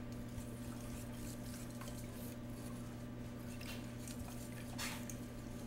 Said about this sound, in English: I'm just whisking it, pre-whisking it before I add it to the stove.